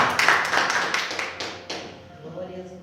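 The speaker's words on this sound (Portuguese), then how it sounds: "Dá uma salva de palmas bem alegre ao Senhor." A church congregation clapping hands joyfully during a sermon, a short burst of rhythmic claps that fades quickly after a few seconds.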